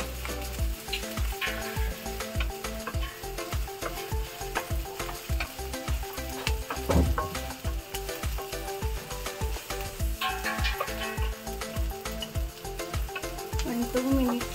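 Garlic, ginger and green chilies fry in a pan, a loud continuous sizzle with steady rhythmic stirring scrapes running throughout, close and clear with no talk.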